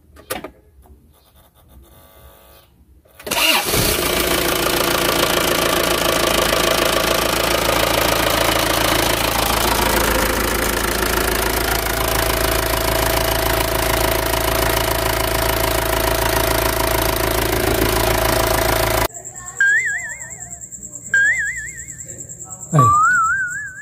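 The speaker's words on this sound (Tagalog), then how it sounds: "Okay, testingin natin. Start na natin." A Mazda Bongo Friendee engine starts after a timing belt replacement and settles into a loud, steady idle with a faint knocking tick, then cuts off, followed by a few short whistling tones.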